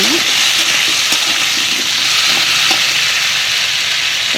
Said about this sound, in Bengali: ভালো করে একটু নাড়াচাড়া করে লাল লাল ভেজে নেব।